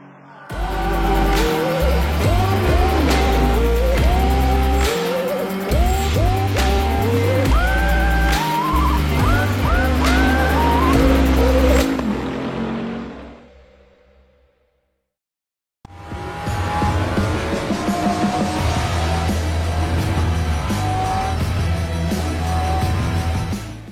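Sim racing cars in a racing video game roar past with climbing engine pitch and squealing tyres, loud and busy, cutting out briefly to silence before the engine noise resumes.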